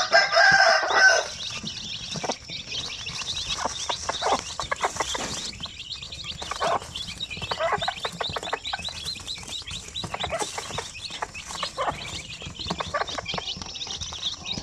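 Native chickens and chicks fill the yard with steady clucking, peeping chirps and a rooster's crow near the start, all close and overlapping with no talk.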